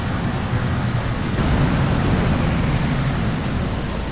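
Rain pours in a steady, dense hiss while driving in BeamNG. The wash of noise is loud and constant throughout, with a low rumble beneath it and no talk.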